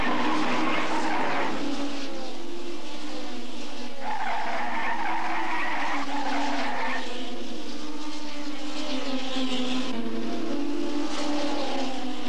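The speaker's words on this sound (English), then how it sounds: "slams on the brakes and spins out of control." A race car braking hard and spinning out at the 1981 Long Beach race, with long loud tire squeals that rise and fall in repeated waves over engine noise.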